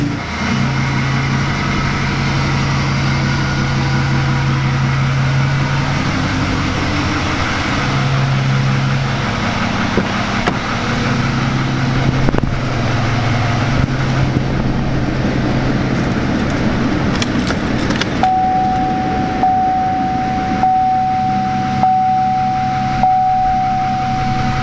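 A truck engine runs steadily at a low idle, then its pitch rises and falls slightly as it revs, with a faint steady whine joining later; loud, close and continuous with no talk.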